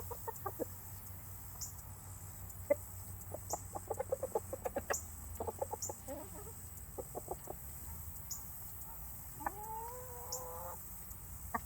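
A rooster mingles with a flock of hens, giving soft scattered clucks and short bursts of clucking, with a longer rising call near the end, all fairly quiet against a faint outdoor hum.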